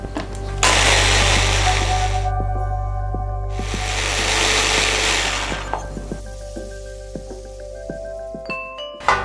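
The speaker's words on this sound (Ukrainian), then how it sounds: "Кладемо у чашу блендера і зіб'ємо все до однорідності." An electric blender whirs loudly as it purees olive oil and garlic cloves, running in two long bursts with a short pause between them and a low steady motor hum, then winding down into faint clicks and clatter.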